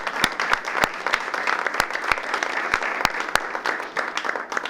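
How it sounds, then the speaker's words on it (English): An audience at a board of education meeting claps for an incoming staff member, steady close applause with sharp individual claps standing out, and no talk. "we'll clap for her."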